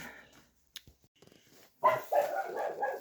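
A dog barks loudly in two close, harsh bursts after a few soft clicks and faint rustling.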